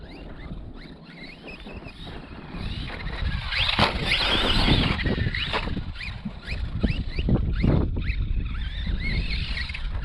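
An Arrma 4S Outcast RC car drives hard outdoors, landing jumps and pulling wheelies. A steady whining motor and gritty tire scrabble run throughout at moderate loudness, rising and falling with throttle bursts.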